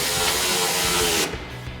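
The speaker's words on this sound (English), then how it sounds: "So we've got our 17 mil socket on our ratchet." A ratchet with a 17 mm socket tightens a side step bar bolt on a RAM 2500, a close rapid clicking burst that stops abruptly after about a second, with no talking.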